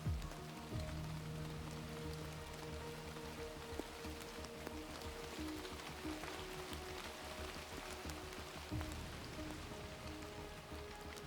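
Steady rain falls on a hard surface, a dense, constant patter that holds at an even level throughout without a break, with no voices.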